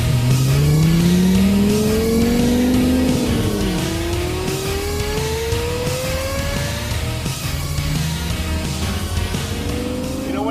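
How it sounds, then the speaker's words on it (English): A Lexus LFA Spyder with its roof cut off howls through a high rev, then blips down through several downshifts, its engine note sweeping up and falling back, loud and close with constant wind roar. "those downshifts, is that the most incredible sound you've ever heard?"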